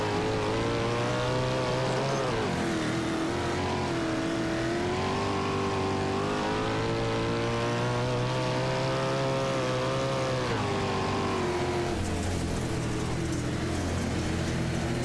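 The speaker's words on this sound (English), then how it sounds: "Connor Dudek in the 7, battling hard with the 40 of Chase Stewart." 410 sprint cars racing at Weedsport in a sim racing game, a loud continuous high-revving engine roar that rises and falls with throttle changes throughout.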